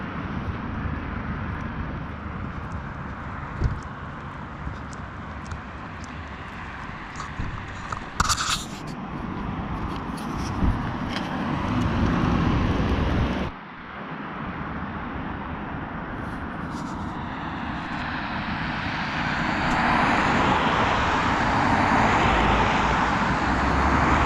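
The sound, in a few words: cars passing by on a main road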